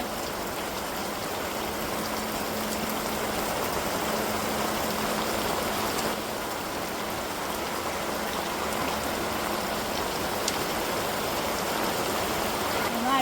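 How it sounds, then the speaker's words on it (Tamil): Heavy rain with wind pours down steadily over a seaside village in Arpur, a dense, constant hiss and patter that stays loud and unbroken throughout. "மழையும் காற்று வந்துக்கிட்டு இருக்கு"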